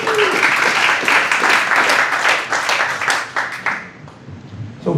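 Sustained audience applause fills a room at a rural political fundraiser in an arts center, dense clapping steady for several seconds before thinning out near the end.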